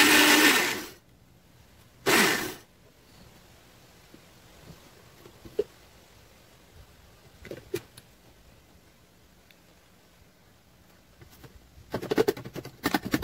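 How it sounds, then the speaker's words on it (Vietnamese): An electric blender grinds shredded carrots with a little water in two short loud bursts near the start and another toward the end, with quiet clatter and handling noises in between. "cho cà rốt vào mình xay nha các bạn, thái sợi rồi mình xay cho nó nhanh nha các bạn"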